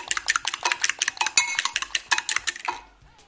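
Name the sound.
whisking egg with milk in a bowl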